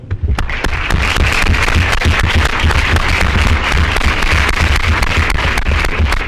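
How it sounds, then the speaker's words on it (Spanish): Loud, dense applause fills an auditorium at a university fiscal-policy event in Puebla, many hands clapping continuously with sharp individual claps standing out throughout. "Le brindamos un fuerte aplauso."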